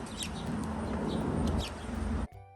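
Birds in a parking lot at Great Wolf Lodge in Mason, Ohio, scrambling for thrown popcorn chirp and coo faintly over a loud, steady outdoor rumble that cuts off abruptly near the end.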